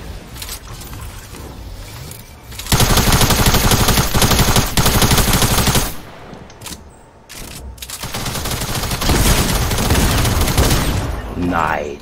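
Sniper rifle fire in Fortnite: loud, close shots come in dense stretches separated by quieter mechanical clicks, with a voice talking near the end.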